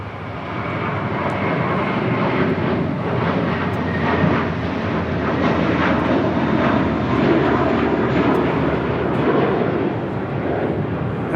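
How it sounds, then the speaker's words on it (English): JetBlue Airways Airbus A321 jet on departure from Los Angeles International Airport, bound for Newark: a loud, steady, broadband engine roar that holds strong throughout and swells slightly mid-pass. "This is JetBlue Airways, Flight 1374, departing to Newark on an A321"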